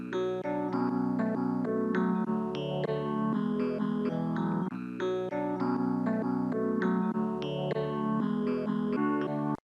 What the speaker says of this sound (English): So this is just the low and high sample playing.